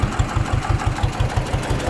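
A John Deere 420W tractor engine idles steadily, a close, even low-pitched chugging pulse repeating about five times a second with no talk.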